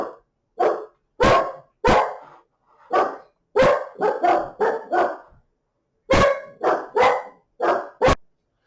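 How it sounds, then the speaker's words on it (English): A pet dog barks at someone outside the house, a close, loud run of about fifteen sharp barks in irregular bursts with short pauses, no voices. "My dog's decided to bark at someone outside."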